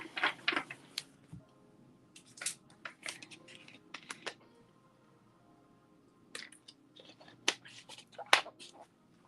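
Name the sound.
tarot cards being shuffled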